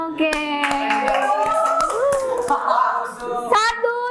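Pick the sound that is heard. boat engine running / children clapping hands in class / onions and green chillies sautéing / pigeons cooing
children clapping hands in class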